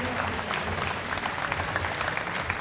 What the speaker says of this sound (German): das ist ja wohl ein Applaus wert